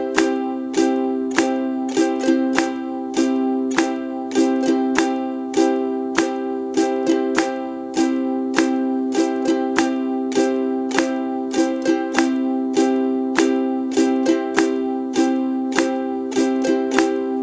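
Ukulele strummed in a steady repeating down-up pattern along with a beat, bright chords ringing clearly for the whole stretch with no talking.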